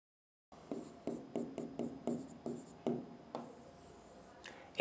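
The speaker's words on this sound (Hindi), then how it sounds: "लेकिन ये चीज अपन को लिखनी है, तो मैं लिखता हूं," Pen scratching on paper as someone writes out a school geometry solution, about ten short close strokes in an uneven rhythm followed by a longer scribble, quiet and without talk.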